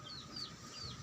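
Pet chickens cluck softly in a backyard, with several short clucks and faint bird calls over a steady low background hum.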